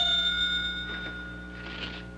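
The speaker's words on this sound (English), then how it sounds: "Whenever there's a bell, down comes a layer." A bell rings on a three-layer cake machine on a late-1960s television game show, a bright, sustained metallic tone that fades, followed by faint studio noise.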